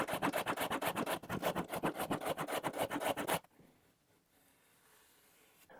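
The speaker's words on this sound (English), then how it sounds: "The first way is just to use a simple block plane." A block plane rasps across the edge of a wooden drawer bottom, cutting a bevel in about a dozen quick, rhythmic strokes that stop abruptly partway through, leaving near silence.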